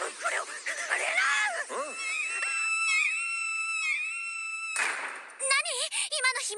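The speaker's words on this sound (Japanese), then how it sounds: "何今の悲鳴。" In an anime scene, a high sustained scream rings out for a couple of seconds between stretches of animated, excited voices, loud and close, with rapid chatter resuming right after it.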